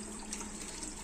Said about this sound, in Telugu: ఇంకా ఆఫ్ చేసేయాలి ట్యాప్.